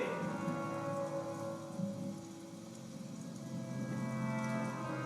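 Steady thunderstorm rain hisses continuously, with a dull low rumble underneath; no voices, a constant wash of sound throughout.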